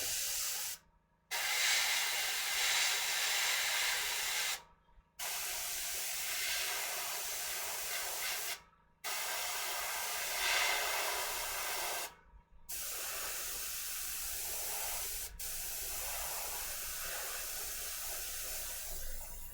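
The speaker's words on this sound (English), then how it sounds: "Way to overspray, Justin." Long steady bursts of spray paint hissing onto a miniature, each several seconds, broken by four short pauses, with a faint low hum underneath.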